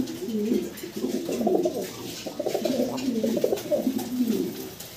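Fancy running pigeons coo in soft, overlapping low throaty calls, several birds close by, steady and continuous with no talking.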